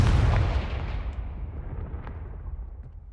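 Confringo fire spell blast in the Hogwarts Legacy video game, a heavy booming explosion that hits loud at the start and then rumbles and fades over a few seconds, with faint crackling debris.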